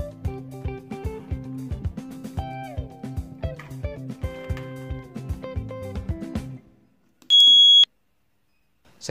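Rhythmic electronic music plays, fades out, then a single loud, high buzzer beep from a remote-triggered relay and timer circuit sounds for about half a second before silence.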